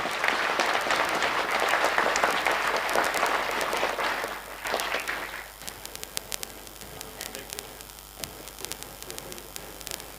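Audience applause at a National Defence University graduation ceremony, loud dense clapping for about five seconds before thinning to scattered claps over a steady background hum.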